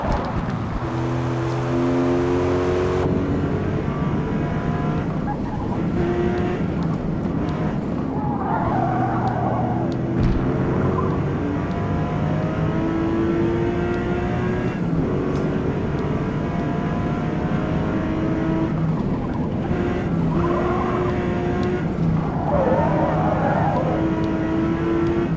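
Race car engine in Forza Motorsport, steady and loud throughout, with rising and falling revs through gear changes and turns, a continuous drone with no talk over it.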